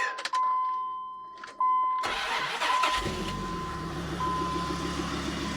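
Dodge T-Rex 6x6 competition truck, a six-wheeled off-road rig, starts up after a brief warning tone and settles into a loud, steady engine idle close by, with no talking.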